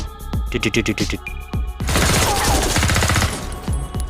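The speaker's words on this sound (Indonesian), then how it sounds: "tanpa sengaja si Beth malah menembaki si Paul" Rapid rifle shots ring out in a horror film scene, a string of sharp cracks followed by a dense, loud burst of gunfire and a few further scattered reports.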